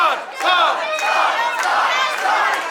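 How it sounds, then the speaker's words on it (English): A wrestling crowd at a Gunner Miller vs Todd Sexton match chants for Todd Sexton, a loud, steady roar of many voices with rhythmic rising shouts throughout. "The crowd actually chanting for Todd."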